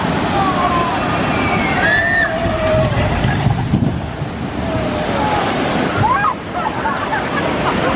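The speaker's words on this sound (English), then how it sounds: "That is a tidal wave super soaker." A Tidal Wave water ride boat splashes down at Flamingo Land Resort, a loud broad rush of spray and sloshing water heard through wind buffeting on the microphone, with faint voices and cries in the distance.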